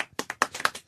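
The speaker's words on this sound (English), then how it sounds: "you get the slow clap for that one" Hand clapping on a radio talk show, a handful of distinct claps spaced out in a slow, deliberate rhythm, close and fairly loud with nothing else around them.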